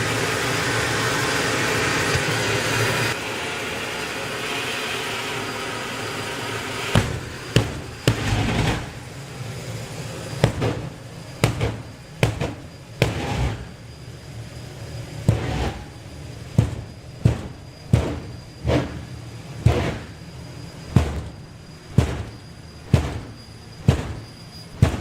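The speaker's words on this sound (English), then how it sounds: "The pops and the bangs will get a little bit louder." Turbocharged drag racing car engine at an FIA drag racing event, a steady roar that breaks into a long series of sharp, regularly spaced pops and bangs growing louder and more frequent.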